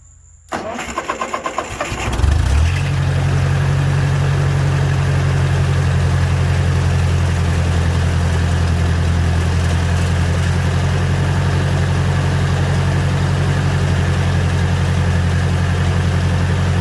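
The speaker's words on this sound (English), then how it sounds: "We'll fire it up and let it run for a couple minutes." A Ford 600 tractor engine cranks briefly, catches and fires up, then settles into a steady, loud, low idle that runs on without a break.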